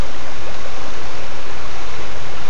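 Steady rushing of a Pennsylvania trout stream stocked with fish, a loud, continuous broadband wash of flowing water close by with no voices.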